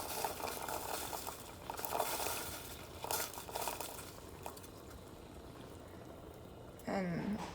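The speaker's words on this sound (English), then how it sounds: "Once the water starts boiling" Steady bubbling and crackling from water on a rolling boil in a pot, close by, with occasional louder pops and a brief clink near the end.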